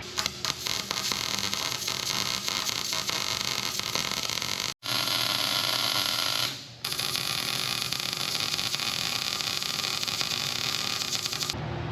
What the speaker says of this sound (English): All I gotta do is weld it on good enough it doesn't rip out of there.